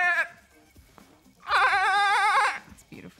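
A person imitates a goat, giving one loud, wavering, quivering bleat about a second long, with brief talk before and after it.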